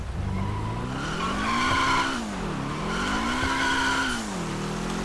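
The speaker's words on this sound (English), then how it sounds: "Is it illegal to wheel spin?" A car in GTA V spins its wheels, its engine revving up and down twice in sweeping pitch while the tires squeal and skid loudly close by, with no talk.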